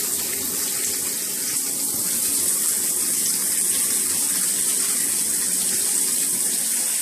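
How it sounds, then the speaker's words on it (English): Water sprays steadily from a Venice Speakman adjustable shower head, a dense, even hiss of streams hitting the ground that holds close and loud for the whole stretch with no voices. "It sprays out and gets wider across the ground."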